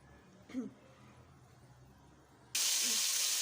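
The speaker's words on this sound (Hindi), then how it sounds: "जो हमने बैगन के लिए ऑयल यूज़ किया था उसमें ही हम अपने टमाटर ऐड करेंगे" Tomatoes hit hot oil previously used for frying aubergine, setting off an abrupt, loud, steady sizzling hiss partway through after a quiet stretch with a brief faint noise.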